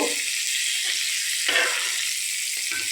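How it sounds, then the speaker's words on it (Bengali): Chana chilli curry sizzles steadily in a frying pan as salt is stirred in, with a constant hiss and a couple of brief scraping stirs. "নুন দিয়ে আমি একটু নেড়ে চেড়ে নেব"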